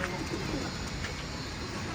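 Flying pigeons kept for racing bets cooing softly in a loft, low throaty coos over steady background noise, with a person talking nearby.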